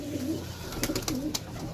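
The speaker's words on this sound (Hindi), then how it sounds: "बहुत अच्छा कबूतर है" A pigeon coos up close in soft, low, rolling calls, repeated a few times over a couple of seconds, with faint clicks and background rustle around it.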